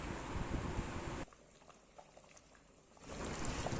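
A pot of fish curry bubbles and hisses at a boil, goes briefly quiet in the middle, then resumes its steady simmering.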